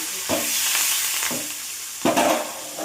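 Curry leaves dropped into hot oil for a kakarkaya masala curry, giving a steady crackling sizzle with several sharper bursts as they hit the pan and get stirred, close and fairly loud, with no talk.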